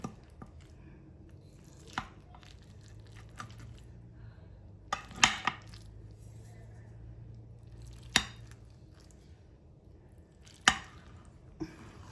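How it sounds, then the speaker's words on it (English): A knife or server cuts through a Tex-Mex casserole in its dish, giving several sharp scraping clicks and taps against the pan spread across the clip, close and fairly quiet, with a low steady hum underneath and no talk. "So let's cut a piece, because it sure does smell good."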